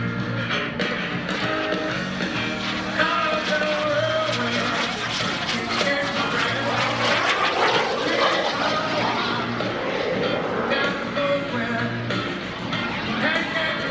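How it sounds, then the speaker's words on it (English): A tiny mini jet flies at the 2021 Greenwood Lake airshow, its engine a steady, broad roar that swells slightly as it passes, continuous throughout with no voices standing out. "He is having a great time flying this airplane, but he says it is a very tiny aircraft."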